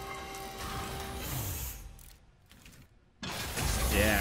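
A washing machine turned into a weapon in Aperture Desk Job grinds and creaks with ratcheting, gear-like mechanical noise, drops nearly silent for about a second, then clanks back in loudly.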